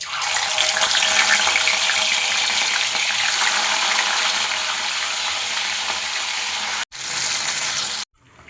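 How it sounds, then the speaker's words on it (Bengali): Fish frying in hot mustard oil in a wok, a loud, steady, dense sizzle with no talk, cutting out abruptly near the end. "মাছগুলো আমি সরষের তেলে ভাজবো।"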